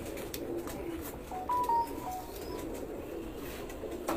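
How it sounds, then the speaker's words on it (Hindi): Soft, low cooing from UAE pigeons, with a few short coos rising over a steady background hum at a moderate distance; no talking. "आज यूएई के नायाब कबूतर दिखा रहे हैं"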